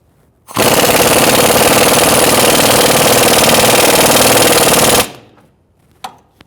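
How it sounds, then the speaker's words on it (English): An impact wrench tightens the rear strut pinch bolt on a 2000-2007 Ford Taurus 3.0L V6. One loud, close, continuous rattling burst lasts about four and a half seconds, then stops abruptly and is followed by a single faint click. "now we're going to tighten our pinch bolt."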